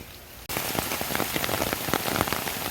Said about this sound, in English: And just like that, it started raining.